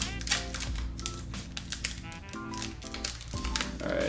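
A Pokemon Brilliant Stars booster pack is torn and crinkled open by hand, with close foil crackling and rustling in quick irregular bursts and no talk.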